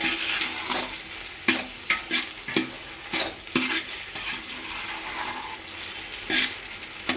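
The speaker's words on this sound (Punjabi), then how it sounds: "ਚੌਲ ਪਾ ਕੇ ਚੰਗੀ ਤਰ੍ਹਾਂ ਜਿਹੜੇ ਮਿਕਸ ਕਰ ਦੇਣੇ ਨੇ" Rice for a jaggery rice dish stirred in a hot pan, a soft frying sizzle bed broken by repeated scraping strokes and spoon clacks, close and moderately loud, no voices.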